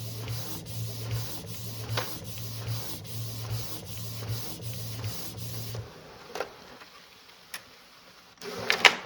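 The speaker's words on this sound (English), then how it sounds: "So the printer prints now" Canon PIXMA inkjet printer printing after a blocked-carriage repair: rhythmic carriage passes with a low motor hum and clicks, then a quieter pause and a brief whir of paper feed near the end.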